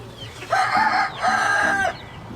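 A broody black hen sitting on Ko Shamo eggs gives two drawn-out, loud, close calls in quick succession, each lasting under a second, with quiet between and after them.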